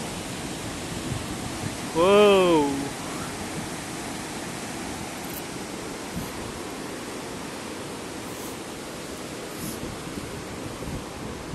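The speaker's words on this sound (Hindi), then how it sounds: "Look at the water flow." A fast current in a river flows beneath a wooden bridge over a narrow valley, making a steady, close broadband rush that holds throughout, with a short vocal exclamation near the start.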